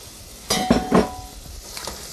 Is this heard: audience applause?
no